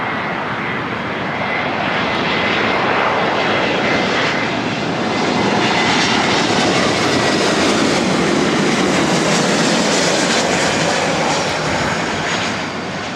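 Delta Air Lines A321neo jet on arrival at LAX from Seattle, a loud, steady roaring engine wash that swells slightly as it passes close overhead, with no voices.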